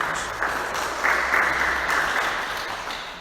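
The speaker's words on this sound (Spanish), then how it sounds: "Denle un fuerte aplauso a Cristo Jesús, hermanos." A church congregation applauds together in a steady, broad wash of clapping that swells slightly around the middle and tapers toward the end, with no talk over it.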